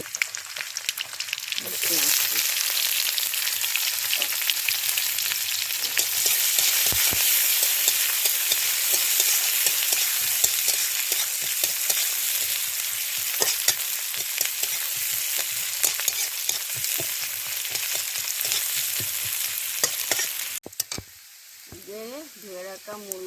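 Panch phoron spices, onion and garlic fry in hot oil with a loud, continuous close sizzle and crackle. Occasional stirring clinks come through, and near the end the sizzle fades and a voice is heard briefly.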